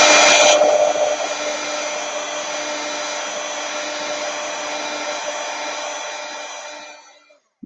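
Hair dryer blowing steadily on watercolor ornaments to dry the paint, a loud continuous whoosh for about seven seconds that then cuts off.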